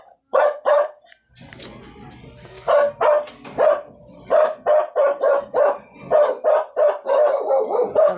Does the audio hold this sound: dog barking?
yes